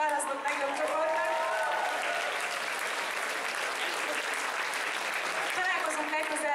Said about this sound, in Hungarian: Szóval nagy tapsot kérek szépen az általatot választott legjobb csoportnak.